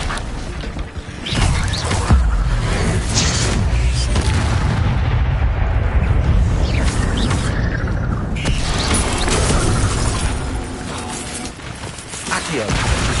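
Incendio fire spell in Hogwarts Legacy erupting as a loud, rumbling burst of roaring flame and booming impacts that sustains for several seconds, dense and close, fading slightly before swelling again near the end.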